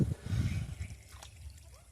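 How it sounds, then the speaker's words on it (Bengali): Water splashes and trickles while bottle gourd leaves are washed one by one. A short wet slosh is followed by fainter dripping, close up and quiet. "দেখুন এক এক করে সবগুলোকেই কিন্তু সুন্দর করে পরিষ্কারভাবে ধুয়ে নিচ্ছি।"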